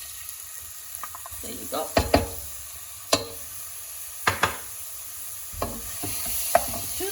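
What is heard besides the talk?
ground onion frying in a pan for chole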